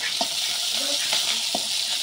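Fish frying in a pan during a village morning cooking session, a dense continuous sizzle with a few soft clinks of stirring spaced through it.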